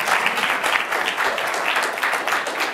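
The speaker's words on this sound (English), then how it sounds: "a quick round of applause for Adam Bain from Twitter" Audience applause for Adam Bain of Twitter rings out steadily and loudly at a live event, a dense wash of clapping that holds at full strength for the whole stretch without any voices.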